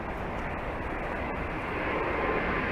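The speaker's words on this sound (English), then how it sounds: "Looks like an American 777. Looks like she's got Rolls-Royce engines on her." An American Airlines Boeing 777 with Rolls-Royce engines gives a steady, broad jet roar that holds at an even, fairly loud level and swells slightly toward the end, with no talk.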